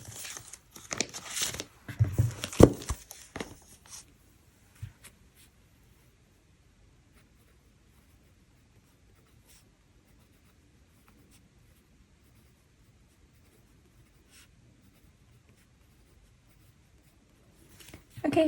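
Pen writing in a Hobonichi Cousin planner, heard as brief, soft scratchy strokes near the start and a short burst again at the end, with near-silence between.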